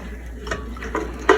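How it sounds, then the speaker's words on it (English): Jambalaya being stirred in a pot, with soft scraping and light clinks of a utensil against the pot, building to a sharper knock near the end, close and fairly quiet with no talk. "All right, now give it a stir."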